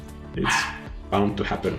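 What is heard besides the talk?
dog barking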